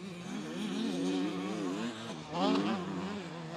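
A small 80cc dirt bike at a motocross summer camp revs hard, its buzzing engine rising and falling in pitch as it speeds past at moderate distance.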